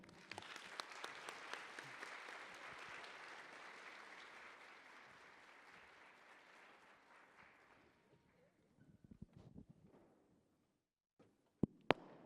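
Audience applause for conference panelists at an opening session, a dense sustained clapping that swells then tapers off over about eight seconds, followed by scattered claps and a couple of sharp knocks in a quiet room.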